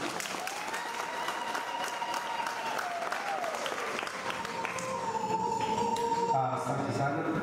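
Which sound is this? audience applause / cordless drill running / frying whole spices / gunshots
audience applause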